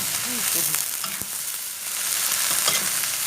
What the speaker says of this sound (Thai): แล้วก็ผัดก็ให้เข้ากันก่อน